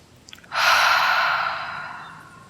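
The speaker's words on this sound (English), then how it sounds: "inhaling through the nose and exhaling through the mouth" One long, deep yoga exhale through the mouth after a short nasal intake, a close, breathy rush that swells quickly and then slowly fades over about two seconds.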